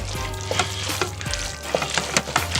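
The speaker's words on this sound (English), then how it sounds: "We're going to add that up, stir it around in there a little bit." A spoon stirs cream cheese into a bubbling Alfredo sauce in a Power Pressure Cooker XL, giving repeated scraping strokes over a continuous close sizzle with no talking.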